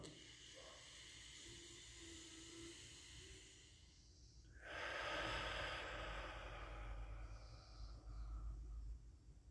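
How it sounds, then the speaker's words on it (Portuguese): Natural pranayama yoga breathing, a quiet slow inhale followed by a longer, louder airy exhale with a hissing, breathy texture, close and otherwise silent. "Pranayama, no sentido original, nada mais é do que um ritmo natural de respiração."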